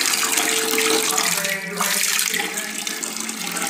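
Water runs steadily from a tap while a child is bathed, a continuous close splashing rush with brief changes as the flow is disturbed.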